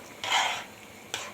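Rice with stock cube, black pepper, salt and cumin stirred in a cooking pot, giving two short scraping rasps of a spoon against the pot, the first longer, the second brief, close and moderately quiet.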